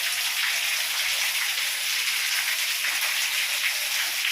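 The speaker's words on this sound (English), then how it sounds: "Yep, it's raining hard. Or solid, steady." Heavy, steady rain falls outdoors as a loud, unbroken hiss, constant throughout with no pauses or voices.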